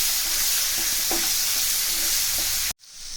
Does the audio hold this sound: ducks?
no